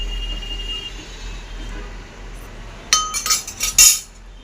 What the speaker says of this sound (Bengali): কড়া বসিয়ে দিয়েছি।